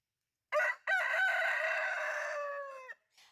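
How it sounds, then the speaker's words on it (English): A rooster crows loudly and close, opening with a short note, then a long sustained crow of about two seconds against a quiet background, followed by a faint short sound. "I will try to go in and lower the volume of the roosters"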